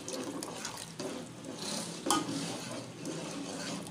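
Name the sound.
stirring flour into chicken nihari with a spoon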